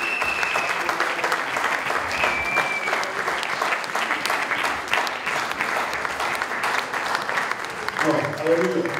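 A church congregation applauds steadily for about nine seconds to acclaim the Lord, dense clapping that stays loud throughout, with a few voices rising near the end.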